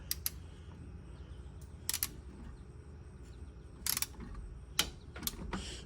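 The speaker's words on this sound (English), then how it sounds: "you kind of have to manipulate your wrench in there a little bit" Sparse metallic ratchet clicks from a wrench turning the bottom bolts on a 1973 Triumph TR6, around a coil spring, come in short scattered bursts against a quiet background.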